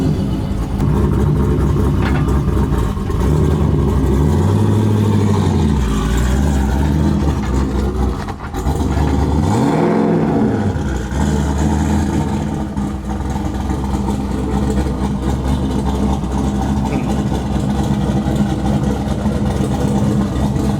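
A C6 Corvette engine rumbles loud and close as the car pulls back into the shop, holding a steady drone with two smooth swells in revs partway through.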